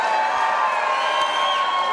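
A wrestling event crowd cheering and whooping, a steady loud wash of massed voices held at one level for the whole moment, no single voice standing out.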